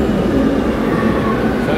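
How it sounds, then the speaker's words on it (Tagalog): Barcelona metro train rumbling loudly into a station, a dense continuous roar of wheels and motors close by, with faint voices mixed underneath. "dumating na yung tren"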